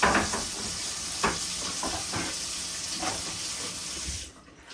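Cold tap water runs steadily over freshly cleaned fish fillets in a sink, a broad close hiss and splash with faint handling knocks, cutting off just before the end, with no talking.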